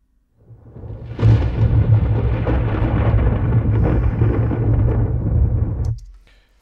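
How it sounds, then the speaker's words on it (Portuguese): Classic rain and thunder sound effect: a loud, sustained roar of heavy rain with deep rumbling thunder swelling in after a moment, holding steady for several seconds and then cutting off abruptly. "Chuva, trovão clássico."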